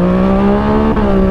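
Sustained motorcycle engine revving at close range, strong steady harmonics holding a high idle with a brief dip near the end before the revs pick back up, loud and without talk.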